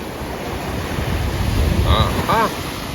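Ocean surf washing onto a beach near Jacksonville during a fishing outing: a steady, fairly loud rush of breaking waves mixed with wind noise, with two brief tonal calls or voice sounds near the end.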